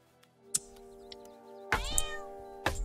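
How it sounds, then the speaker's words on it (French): Cats meowing in the video game South Park: The Stick of Truth, two loud drawn-out meows rising and falling over a quiet background tone, with a few short clicks and a third meow starting at the end. "Je peux taper les chats."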